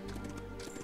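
Horse hooves clip-clopping in the video game Smuta, a brief burst of quick hoofbeats over a low, steady game background rumble.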